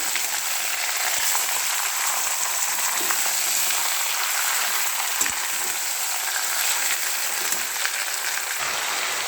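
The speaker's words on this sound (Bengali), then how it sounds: "চিকেন ফ্রাই হচ্ছে।" Chicken frying in a pan while a biryani is being prepared, a steady, dense sizzle with scattered crackles and a few soft clicks, close and continuous with no talk.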